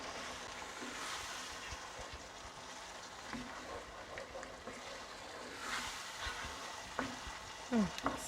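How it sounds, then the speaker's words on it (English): Crushed tomatoes stirred into a simmering butter chicken sauce in a pot, a faint steady bubbling sizzle under soft spoon scrapes, with a brief louder clink near the end. "now I'm going to add some crushed tomatoes. Give that a stir."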